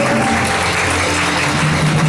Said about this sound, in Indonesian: Kasih tepuk tangan yang meriah Tuhan Yesus.